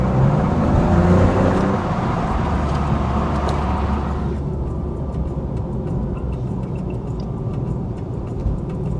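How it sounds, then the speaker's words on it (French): Maserati GranTurismo cruising gently, a steady low engine hum with constant road and tyre noise from inside the car, the higher wind hiss fading away midway through. "Conduite pépère à bord de cette Gran Turismo"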